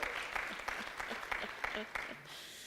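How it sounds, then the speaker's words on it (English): Applause from a conference audience at a biodiversity economy and investment gathering, faint and distant clapping with scattered sharper claps and a brief voice near the end. "A round of applause."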